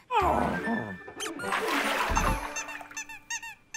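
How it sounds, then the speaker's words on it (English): A squeaky bath toy gives a rapid run of high squeaks near the end, after a stretch of cartoon commotion and sound effects. "Who can resist a squeaky bath toy?"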